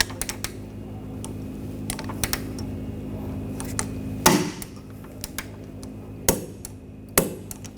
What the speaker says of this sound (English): we're going to torque this bolt to 76 foot-pounds